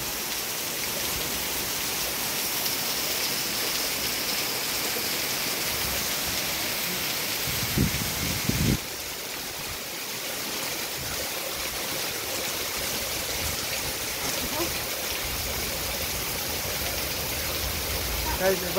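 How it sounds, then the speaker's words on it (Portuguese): Heavy rain falls on the town of Baretama in northeast Brazil, a dense, steady hiss that runs unbroken throughout, with a brief louder swell about midway. "Muita chuva aqui na cidade de Baretama."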